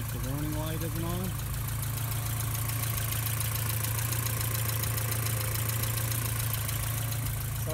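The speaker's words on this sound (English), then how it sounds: "Alright, I've got the car idling." A Porsche 944 Turbo engine idles steadily with a constant low drone and a faint mechanical clatter. It runs close and even throughout, and a voice speaks briefly near the start.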